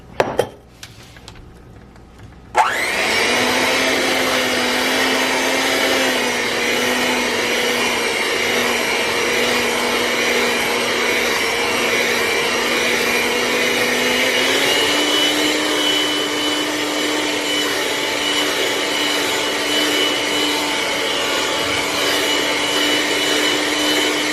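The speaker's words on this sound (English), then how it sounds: "We're also gonna add our eggs. And we're gonna mix it." An electric hand mixer whirs steadily as eggs are beaten into New York cheesecake batter, starting after a couple of seconds of quiet and holding a constant motor drone with a slight pitch shift midway.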